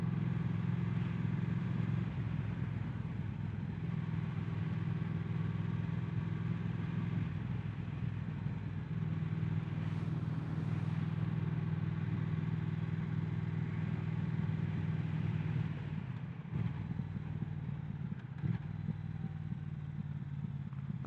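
Triumph Thruxton 1200 motorcycle with Vance and Hines exhaust, heard while riding on windy, broken roads: a steady, moderate engine drone that stays level throughout, blended with wind rush and no talking.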